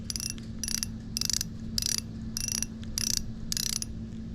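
A Shimano Twin Power FE 3000XG spinning reel's drag ticks out in quick clicking bursts, about seven short runs of rapid ratcheting separated by brief pauses, close and fairly quiet.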